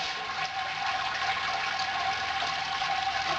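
Sparge water pours steadily over the grain bed in a Brewzilla all-in-one brewing system during a Sunshine Ale brew day, a continuous close splashing trickle with no talking.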